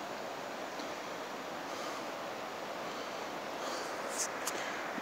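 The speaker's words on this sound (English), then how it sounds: "You can hear water running and gushing down below." Water runs and gushes somewhere below in the woods. It comes through as a faint, steady rushing hiss that holds constant throughout without breaks.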